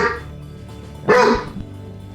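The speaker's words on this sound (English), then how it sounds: "we got a delivery at the front door, and the dogs have to bark at the delivery guy" Dogs bark at a delivery person at the front door during a move south, a short burst of barking rising midway and then quickly fading.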